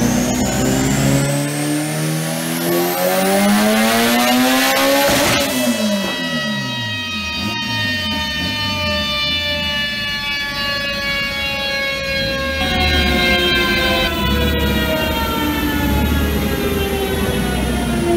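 A turbocharged 1998 Honda Civic engine, running about 32 psi of boost, revs hard on a dyno, climbing in loud sustained sweeps with a whistling rise, then dropping and surging again close up with no voices.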